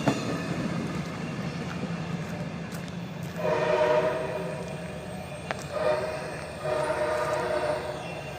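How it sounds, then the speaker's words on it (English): Passing train at a crossing sounding a harsh horn in several blasts, the second half carrying repeated loud horn bursts over steady rail rumble, fairly near, with no talk. "That is an extremely foul horn."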